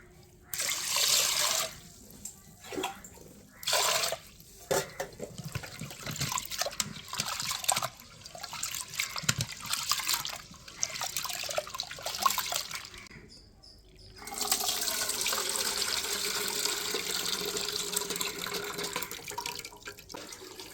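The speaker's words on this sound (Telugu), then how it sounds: "కందిపప్పు అయితే శుభ్రంగా కడిగేసుకోండి ముందు ఒక రెండు మూడు సార్లు" Running tap water splashing and trickling into a vessel as toor dal is washed, with stretches of sloshing and rinsing, broken by short pauses, then a steady flow toward the end.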